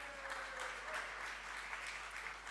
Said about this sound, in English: Ladies and gentlemen, round of applause for pitch number 4.